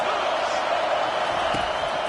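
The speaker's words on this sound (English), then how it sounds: "this crowd is tearing the lid off this place" A college football stadium crowd at Iowa versus Notre Dame roars loudly and steadily on third down, a thick, unbroken wall of cheering with a brief thump partway through.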